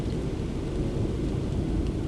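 Steady heavy rain pours down outdoors as a dense, unbroken wash of noise with a deep low rumble, loud and close, with no voices.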